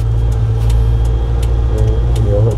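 A manual car's engine in second gear gives a steady, close, low drone that stays even throughout, with no voices.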